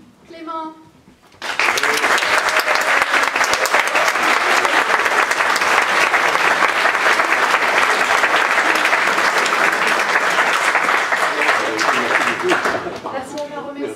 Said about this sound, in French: On va applaudir aussi à la régie.